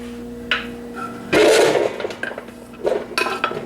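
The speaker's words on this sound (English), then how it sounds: "So I think we have a good old chopped up onion here. Let's just shove it into the pot." A chopped onion being shoved into a cooking pot for a stew: a few light knocks, then a loud scraping rush as the pieces tumble in, followed by softer clinks of the pot and spoon.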